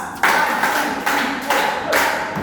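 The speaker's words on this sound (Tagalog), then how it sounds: "bigyan nga ninyo ang inyong sarili ng 5 palakpak pataas" Children in a classroom clapping for themselves in an upward-moving five-clap cheer, with distinct loud group claps spaced evenly about every half second, close and clear.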